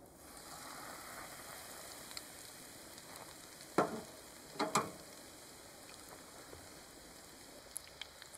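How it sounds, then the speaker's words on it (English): Chicken pieces frying in a hot pan give a steady, faint sizzle throughout, with a couple of sharper crackling bursts partway through and no voices. "time to put the chicken on."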